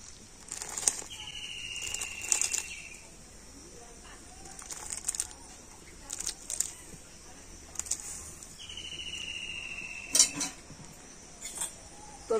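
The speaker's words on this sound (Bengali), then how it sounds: "আর এবার আমি এই সাবুদানাটা দুধের মধ্যে দিয়ে দেব।" Drained sago pearls going into boiled, reduced milk in a pan: light clinks and scrapes of a spoon on metal, repeated through the clip, near and fairly soft, with faint background tones.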